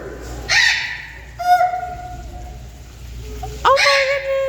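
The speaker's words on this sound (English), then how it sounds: "Oh, look at that bird." A bird calls loudly and close by, giving three separate harsh, tonal cries spaced a second or two apart, with quieter background noise in between.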